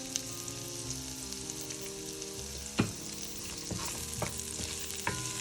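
Onion sautés in oil in a pan for a salt mackerel rundown, giving a steady bright sizzle with a few clinks of stirring now and then.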